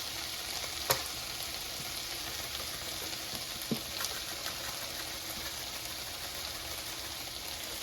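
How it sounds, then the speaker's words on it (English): Canned corn being stirred in a pan with butter, black pepper, garlic powder and Italian seasoning, a steady soft sizzle throughout with a few faint scraping knocks of the utensil. "mix everything together so it's coated with butter and seasonings"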